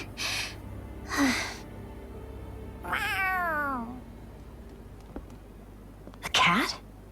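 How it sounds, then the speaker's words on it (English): A cat meows several times in the Tales of Arise video game: distinct, fairly close calls, one long and wavering, with a short gasp-like sound and game ambience between them. "A cat? Where'd it come from?"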